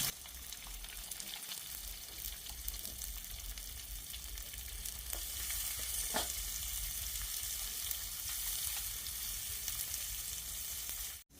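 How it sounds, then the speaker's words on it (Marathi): Chopped onion frying in oil in an iron pan, giving a steady, fairly quiet sizzle that continues without a break, with no voices over it. "आता हे कांदा टाकून घ्यायचे तळ्यात"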